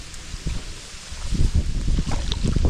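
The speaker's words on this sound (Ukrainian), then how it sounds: "Такий вітроган був просто." Strong wind buffeting the microphone on open water during a boat fishing trip in the wild Volyn countryside, gusting in low rumbling surges that grow louder in the second half, with faint water and boat noises underneath.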